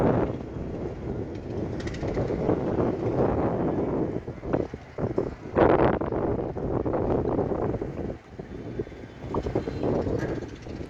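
Strong wind buffeting across a river just before rain, a loud continuous rushing roar with gusty swells and brief dips.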